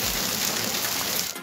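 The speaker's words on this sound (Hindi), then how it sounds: "बलूचिस्तान में औरान से सियारत तक बारिश ने जल थल एक कर दिया" Heavy rain pours steadily in Balochistan, Pakistan, a dense, even hiss of drops on surfaces holding at constant loudness throughout, with no voices.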